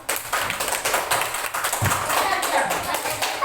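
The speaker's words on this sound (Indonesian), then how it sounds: "Oke, tepuk tangan untuk kelompok 1." A classroom of students claps for a student group after its presentation, a dense patter of hand claps running steadily throughout, close and fairly loud.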